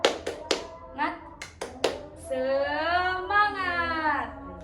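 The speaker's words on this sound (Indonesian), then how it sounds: "Ayo kita tepuk semangat dulu ya." Several rhythmic claps ring out, followed by a group of voices chanting together.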